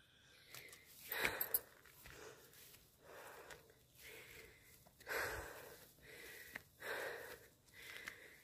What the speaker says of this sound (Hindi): सांसों की आवाज़ ज़्यादा आएगी क्योंकि बहुत सांस फूल रहा है चढ़ाई में